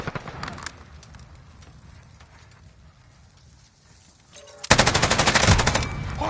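Bruen MK9 light machine gun fire in the shooter Call of Duty: Modern Warfare 3, a few faint shots early, then a quiet stretch before a loud, rapid sustained burst of automatic fire near the end.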